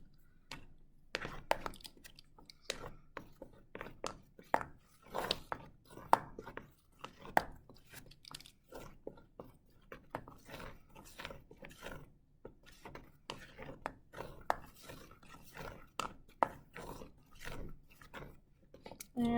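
A spoon stirs a snow fluff mixture in a bowl, making quiet, irregular scraping clicks and taps that repeat steadily throughout.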